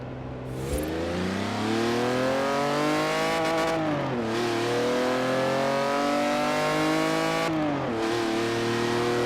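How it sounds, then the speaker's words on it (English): A straight-six car engine in Forza Horizon 4 revs hard, bouncing repeatedly off the rev limiter in a loud, sustained, buzzy roar with brief dips as gears change. "So that's what it sounds like when you hit the rev limiter and you change up"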